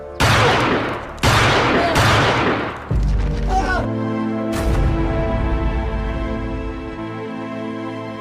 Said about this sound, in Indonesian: Dan akhirnya Ale yang harus mati tertembak.